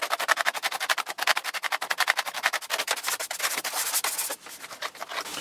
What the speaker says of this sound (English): the nylon brush will really get a lot of that caked dirt to get loose